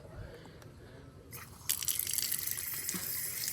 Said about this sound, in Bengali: এবার এর মধ্যে সামান্য জল দেবো